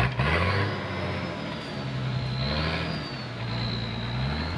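A car engine revs steadily as it climbs a steep road on Telecom Hill, Amamoor, its pitch rising and falling in sustained strained drones throughout, close and loud with no talking.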